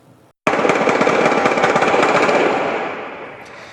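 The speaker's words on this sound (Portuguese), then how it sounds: "Foi assim, ao som de rajadas de fuzil, que muita gente acordou hoje na região do Grajaú." Sustained rapid automatic rifle bursts from a police shootout in Grajaú, Brazil, erupt suddenly after a brief quiet, loud and continuous for a couple of seconds before trailing off.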